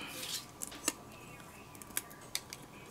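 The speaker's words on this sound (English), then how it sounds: "I think I'm also going to cut out" Scissors snip paper pieces for a handmade card, a few faint, sharp, separate cuts spaced irregularly over quiet room background.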